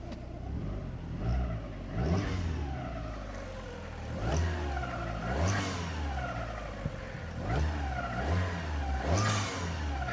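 A Fiat Panda's swapped 100HP T-Jet engine revving up and dropping back several times in a row, rising and falling in pitch, close by and fairly loud, recirculating valve open.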